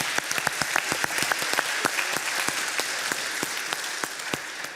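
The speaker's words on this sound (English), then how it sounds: "Another applause for them." An audience at a political event applauds steadily, dense close clapping with a few sharper individual claps standing out, continuing without a break for several seconds.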